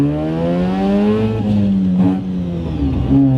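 A 1970 Mazda R100 Series 2 with a naturally aspirated rotary engine runs close by, its loud buzzy drone rising and falling steadily through a brief rev, with no talking over it.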